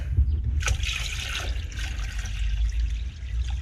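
Water pours and trickles steadily into a container for rust-removing electrolysis of tools for a few seconds over a low, constant hum.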